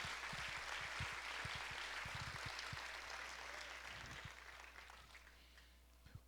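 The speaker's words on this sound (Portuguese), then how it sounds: "Outra salva de palmas para o Senhor Jesus." A church congregation claps for Jesus during a service, with faint, steady applause that holds for several seconds and slowly thins out.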